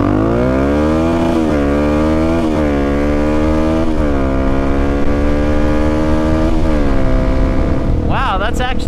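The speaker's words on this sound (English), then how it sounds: "this is gonna be the DRZ400E versus the DRZ400S drag race" Suzuki DRZ400E and DRZ400S motorcycles accelerate hard in a drag race, their engines loud and close, rising in pitch through repeated gear shifts before a higher rev at the end.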